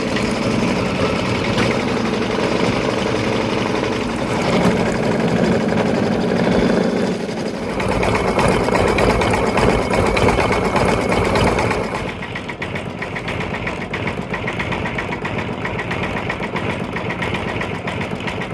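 A home embroidery machine steadily stitches a Kimberbell Nativity design, a continuous whirring, rattling drone with a busier stretch midway before settling slightly quieter, close and alone.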